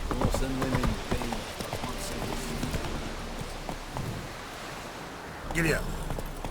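Horse hooves clopping in a quick rhythm over ground in the video game Witcher 3, fading then returning near the end, with a voice speaking briefly over them.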